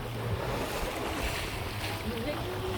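Sailboat riding through ocean waves on a voyage toward New York, a steady broadband rush of water and wind close to the microphone, with faint voices underneath.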